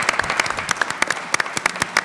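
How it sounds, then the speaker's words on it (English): Audience applause for tutors at a community event, a short burst of scattered hand claps with distinct sharp individual claps, moderately loud and without speech. "So come on, give the tutors another hand of applause."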